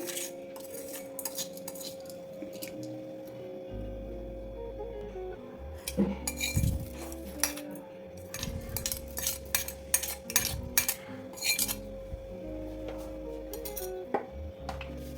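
A spoon clinks and scrapes against a bowl in irregular bursts while mixing dosa batter with tempering, close up, with a faint steady hum in the background.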